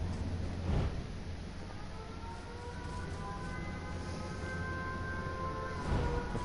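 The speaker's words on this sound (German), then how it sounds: "Ich höre Sirene." In the H1Z1 battle royale game, a siren warns of the incoming gas zone: a faint, steady wailing tone drones throughout, with a couple of muffled thumps near the start and end.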